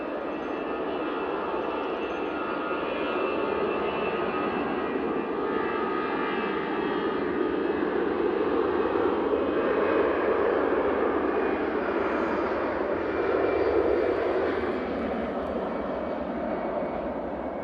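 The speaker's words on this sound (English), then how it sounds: "And that Ryanair is moments away. Oh, touching down." A Ryanair jet airliner lands and touches down at Manchester Airport, heard as a fairly faint, steady engine rumble and rush from some distance that swells gently and then eases.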